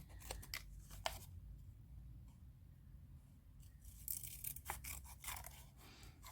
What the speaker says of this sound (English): I'm cutting with nail scissors. I'm using the curve to my advantage